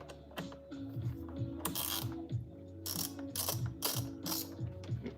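Ratchet clicks run in a steady series of short bursts as screws come out of a Bissell Revolution upright vacuum during repair, close and fairly loud with no talking.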